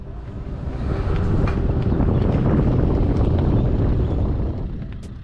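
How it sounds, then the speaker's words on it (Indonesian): Strong, cold wind roars steadily across the Posong mountain campsite in Temanggung, a dense, buffeting rush swelling and easing slightly over several seconds, with no voices. "anginnya itu kenceng banget dan yang pasti dingin banget"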